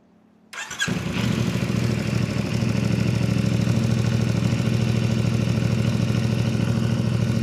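A CFMOTO 450CL-C motorcycle, returned to its stock exhaust, cranks briefly and fires up, then settles into a steady, throbbing idle close by, with no talking.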